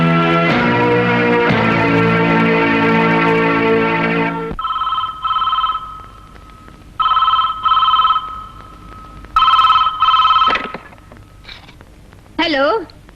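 A telephone rings in a film scene, sounding in short repeated bursts after a sustained harmonic tone at the start; loud and close, with no one speaking over it.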